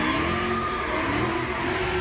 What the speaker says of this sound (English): Sounds of tires screeching is what those who live near 25th and King Drive have been waking up to